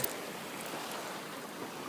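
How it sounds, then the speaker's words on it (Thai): Sea waves wash onto the sand at Hat Sai Kaew beach in Phuket, a steady close hiss of surf with no voices. "มาอีกแล้วน้ำทะเล"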